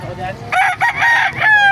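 A gamecock crows loudly and close by at a Bocaue poultry market, one long strained call with a few breaks, rising and holding before trailing off.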